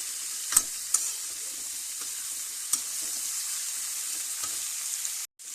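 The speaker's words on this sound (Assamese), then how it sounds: "এই সজিনা ফুলখিনি দি দিছো ইয়াতে। এতিয়া ধুনীয়াকৈ লৰাই দিম।" Drumstick flowers frying and being stirred in a pan, a steady close sizzle with a few sharp scrapes and knocks of the spoon, and no talking.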